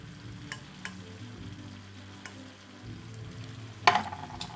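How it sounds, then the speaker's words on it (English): Tinned tomatoes slide into a hot pan and are stirred, a soft sizzle under scraping stirs, ending in a louder wet slop near the end. "So in go the tinned tomatoes"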